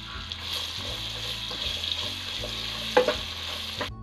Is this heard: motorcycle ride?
no